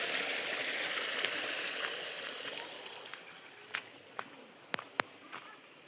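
Waterfall-fed stream rushing steadily in the open countryside, a constant broadband wash of water close by with a few sharp clicks and knocks over it near the end.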